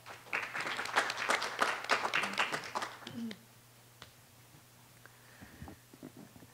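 Applause from a small audience welcoming a speaker at a network policy forum lasts about three seconds, then fades to quiet room tone with a few faint stray sounds.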